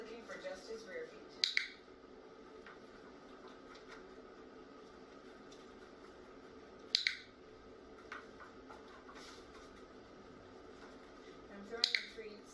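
A dog-training clicker gives three sharp, crisp clicks, each spaced several seconds apart, against a quiet indoor background.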